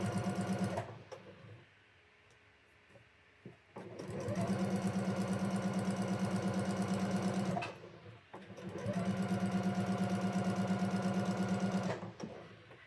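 A sewing machine stitches quilt blocks in two long, steady runs of rapid, even needle chatter, each lasting several seconds, with a quiet pause between them and faint handling sounds at the edges.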